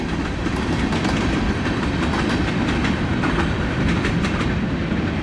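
A westbound CN freight train rumbles steadily past nearby in Austinville, Iowa, with rhythmic clickety-clack of wheels over rail joints, loud and continuous throughout, no voices.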